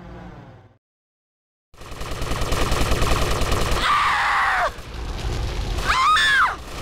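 Gunfire in Grand Theft Auto Vice City Stories comes in dense, loud rapid bursts after a short silence, with crackling, booms and a whining sweep rising over the shots.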